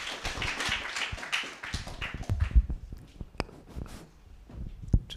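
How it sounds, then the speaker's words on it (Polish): Applause from an audience at an evening talk event: a burst of clapping that quickly thins into scattered, sparse individual claps and taps, fairly quiet and with no voices. "a ja jeszcze raz poproszę o brawa dla naszych cudownych dzisiaj dwóch pań"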